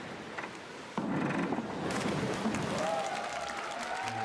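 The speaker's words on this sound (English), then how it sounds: "Again, whoops and cheers from the crowd." A crowd at a diving event cheers and whoops, the noise swelling after a quiet start into sustained applause and shouts, with a rising whistle-like whoop near the end.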